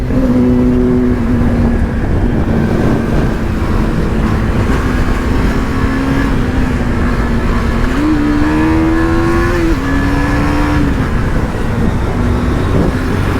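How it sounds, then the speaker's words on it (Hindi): Kawasaki ZX10R superbike engine revving loudly on a road ride, a sustained close roar whose pitch steps up and down through several rises, with traffic and wind underneath. "गाइस साउंड सुन रहे हो जब सुपर बाइक साथ में होती है ना"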